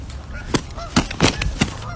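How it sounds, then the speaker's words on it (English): Geese fight and honk loudly at close range, with several sharp, harsh calls bursting out irregularly over a noisy background. "There's some geese beating the shit out of each other."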